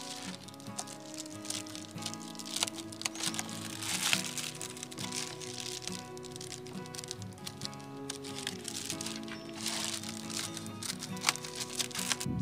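A crinkly sheet of Reflectix foil insulation is cut and trimmed to fit a car camper's window, giving close, continuous crackling and crinkling with scattered sharper snaps throughout.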